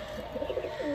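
Domestic pigeons of Madras breed lines coo in a short, close burst of soft, throaty, warbling notes, steady and alone without talk.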